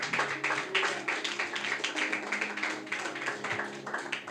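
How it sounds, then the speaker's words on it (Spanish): A church congregation applauds the Lord, with dense, steady clapping from many hands sustained throughout, loud and fairly close, with faint voices mixed in. "Denle un aplauso al Señor."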